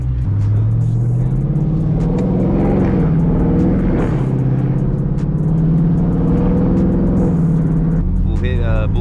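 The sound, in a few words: muscle car driving through canyon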